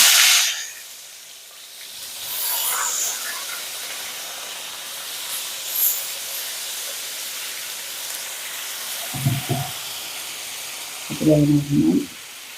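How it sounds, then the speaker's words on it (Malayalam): Brinjal tipped into a hot pan set on low heat gives a sharp burst of hiss, then settles into a faint, steady sizzle, with brief bits of a voice near the end. "സിമ്മിൽ വെച്ചോണ്ട് തന്നെ കത്തിരിക്ക അതിനകത്ത് ഇടണം."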